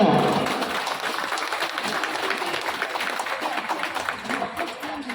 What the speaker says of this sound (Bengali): জোরে করতালি এদের জন্য